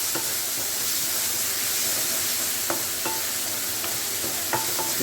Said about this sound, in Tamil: வெங்காயம் தக்காளி நல்லா வதங்கிடுச்சு